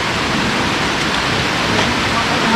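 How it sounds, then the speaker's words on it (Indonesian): A small river flowing in Lawe Sigala-gala, Aceh Tenggara, giving a loud, steady, broadband rush of water with no break across the whole stretch. "jadi kita mau lewati dulu sungai kecil ini"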